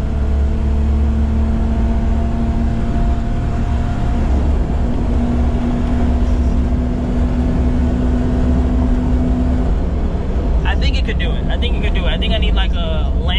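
Daihatsu Midget 2 engine accelerating, a steady droning whine that climbs slowly under ongoing talk, with a rattling clatter toward the end.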